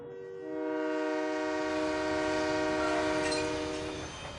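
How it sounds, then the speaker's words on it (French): A delivery train arrives at the Rungis market station, sounding a long, loud multi-tone horn that swells, holds for several seconds and fades, over a low rumble of rail cars. "construite spécialement pour que les trains de livraison puissent arriver au cœur du marché"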